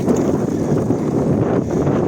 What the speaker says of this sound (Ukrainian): Знов вітер.